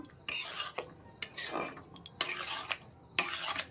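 Curry being stirred in a pan with a metal spoon, four or five distinct bursts of scraping and clinking against the metal, close and fairly loud, separated by short pauses, with faint cooking noise underneath and no voices.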